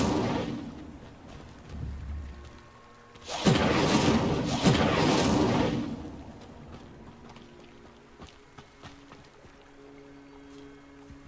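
Incendio fire spell cast in Hogwarts Legacy: a whooshing, roaring burst of flame that swells for a few seconds, then fades into quieter background game sounds.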